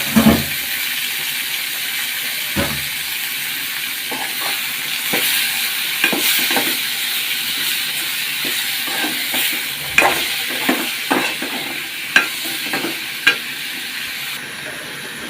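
Chopped onion and tomato fry in a pan with a constant hiss of sizzling, broken by intermittent scraping clicks and knocks as a spoon stirs, for an egg curry with mustard.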